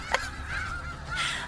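Geese honking in a meme clip played over a live stream, a couple of bright nasal honks, the first sharp near the start and another drawn out toward the end, fairly close over a low background hum.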